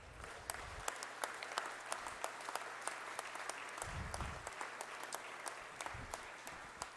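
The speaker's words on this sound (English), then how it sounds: "let's give you a round of applause" An audience at a state judiciary address claps in a moderate round of applause, with scattered distinct claps over a soft wash and a few brief low murmurs or voices cutting in.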